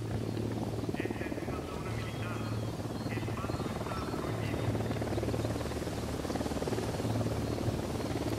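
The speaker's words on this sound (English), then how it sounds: "Unidad chopper, stay low." Unidad helicopter in the Ghost Recon Wildlands video game, a steady rhythmic rotor thrum holding at even loudness throughout, with voices speaking over it.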